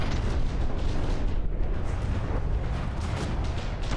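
Heavy cannon fire in the naval combat game From the Depths, a dense, continuous roar of booms and blasts filling the whole stretch at steady loudness, with no voices.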